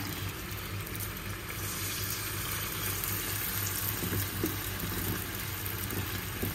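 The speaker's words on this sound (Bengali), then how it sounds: "তেলটা গরম হয়ে গেছে, বড়াগুলো ছেড়ে দিচ্ছি।" Lentil vadas for dahi vada frying in hot oil, a steady close sizzle with soft crackling and bubbling running throughout, no talking over it.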